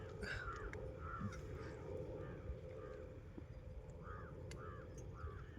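Several crows caw repeatedly in rough, harsh bursts at a moderate distance outdoors in open countryside near a river, over a steady low rumble of wind and background noise, with no talking.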